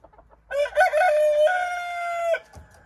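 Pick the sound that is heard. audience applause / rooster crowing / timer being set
rooster crowing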